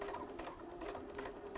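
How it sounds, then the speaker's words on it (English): A sewing machine stitches fabric steadily, its quiet motor hum running continuously with faint rhythmic ticks from the needle and feed, heard alone without talk. "The sewing machine will take care of moving it forward."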